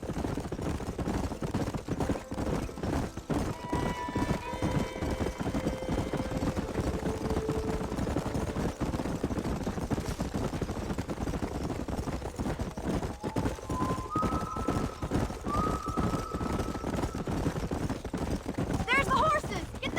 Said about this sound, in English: There's the horses!